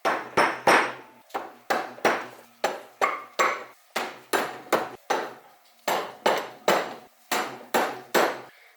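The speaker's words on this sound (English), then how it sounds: "Oh, might need a little hammer blow." A steady series of sharp metallic hammer blows on a stuck Honda CRF50 engine top-end part, roughly two or three per second, loud and close, with short pauses between bursts.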